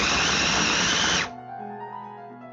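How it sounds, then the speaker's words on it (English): An electric meat grinder grinds beef in a loud, steady whir that cuts off about halfway, leaving a faint ringing hum as the motor winds down. "Use a meat grinder and grind it up."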